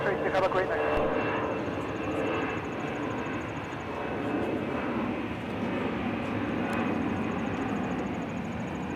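An airliner departing from Minneapolis–Saint Paul airport thunders steadily with a broad, loud engine roar that holds for the whole stretch, with a faint high whine above it.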